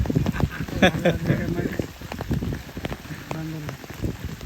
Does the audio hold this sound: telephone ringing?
no